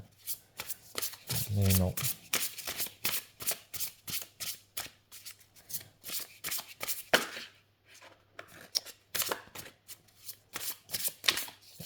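Large oracle deck cards shuffled by hand in quick repeated riffles and rubs, close and crisp, with a rhythmic flurry of papery slaps while someone speaks softly in French.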